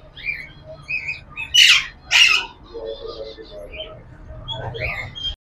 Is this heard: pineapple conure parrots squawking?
yes